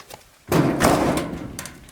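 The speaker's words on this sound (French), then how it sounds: "Merde, j'ai pété la porte." A door slamming hard and breaking during a game of hide-and-seek indoors: one sudden loud thud-crash followed by a rattling, decaying clatter and a few smaller knocks, close by, with no talking.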